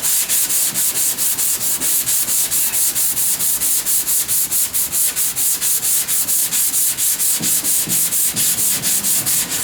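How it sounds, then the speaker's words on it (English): Sandpaper of 220 to 320 grit rubbed by hand on a sanding block over car body panels on a Civic hatchback, a steady rhythmic back-and-forth rasp with regular strokes, close and loud throughout, no voices. "have to block sand everything by hand. I am using 220 to 320 grit."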